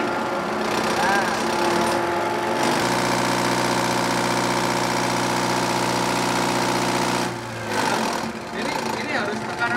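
A diesel engine fitted with a Bosch pump under repair revs up and holds a steady drone before dropping back to a rough idle, with people talking throughout.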